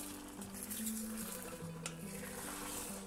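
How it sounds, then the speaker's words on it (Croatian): Oyster mushrooms and eggs are stirred in a frying pan over a soft, continuous sizzle, with utensil scrapes and a faint steady tonal hum underneath. "Morate miješati, znači da se fino zapeče."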